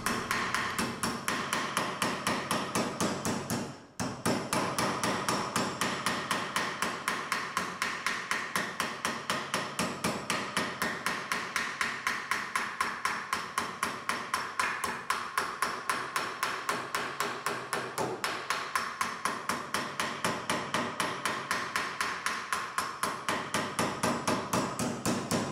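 A hammer lightly beating sheet metal over a wooden form while flanging an edge, steady rapid light strikes repeating evenly and close up for the whole stretch with one brief pause near the start.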